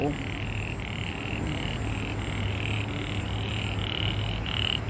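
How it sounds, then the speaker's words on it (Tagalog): Many frogs croak at night in Singapore in a steady pulsing chorus, repeated calls overlapping continuously, with a low hum of distant traffic underneath. "Maraming naguhuni ang mga palaka."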